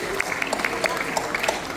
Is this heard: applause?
yes